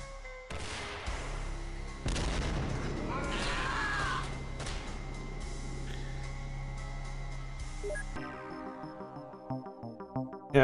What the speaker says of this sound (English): I'm just gonna fire the rocket launcher